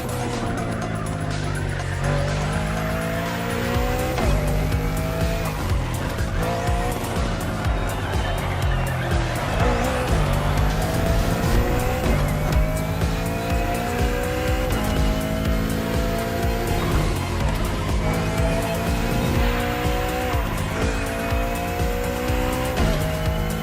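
Race car tires squeal repeatedly as grip is lost during the final lap of The Crew Motorfest, with sweeping engine revs rising and falling over a loud, continuous high-pitched screech.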